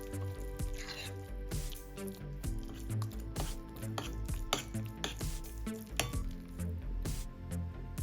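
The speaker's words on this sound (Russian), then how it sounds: "Начинаю добавлять понемногу, перемешиваю, добавляю еще." Walnut filling for Georgian eggplant rolls being stirred with added water in a bowl, soft squishing and scraping strokes with light clinks of the utensil, close up and steady.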